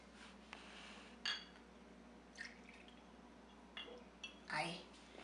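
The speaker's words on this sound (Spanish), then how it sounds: "Vamos a ponerle dos medidas de pisco" Pisco is poured into a small measuring glass in a kitchen, with a few short liquid splashes and trickles separated by quiet pauses, faint and close.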